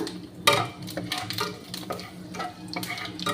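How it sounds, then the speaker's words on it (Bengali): Torn dried red chillies and panch phoron sizzle in hot oil in a pan. A steady crackle is broken by sharp clinks and scrapes of stirring up close. "দুটো শুকনো লঙ্কা ছিঁড়ে দিলাম আর একটু পাঁচফোড়ন দিলাম"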